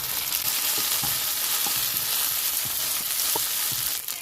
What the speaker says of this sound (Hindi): अभी जो मेथी है ये भी हम फ्राई करेंगे।